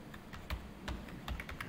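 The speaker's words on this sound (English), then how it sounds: "I'm still struggling with the keyboard, sorry." Clicks of typing on a computer keyboard, a quick irregular run of sharp keystrokes up close with short pauses between bursts, set against faint room hiss and no talking.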